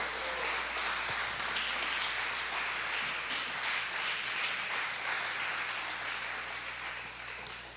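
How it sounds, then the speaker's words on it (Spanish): A church congregation applauds during a sermon, a steady moderate wash of clapping that holds then eases slightly, heard at some distance. "Dale un aplauso al Señor pues en esta hora."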